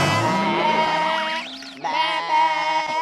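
A goat bleats loudly and close by in one long, wavering cry that bends in pitch, followed by a second shorter bleat.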